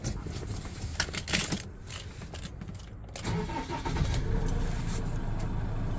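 An Iveco Daily cherry picker van, under electrical repair for a no-start fault, cranks with a series of clicks and churning bursts before catching and settling into a louder, steady idle, heard close with no talking.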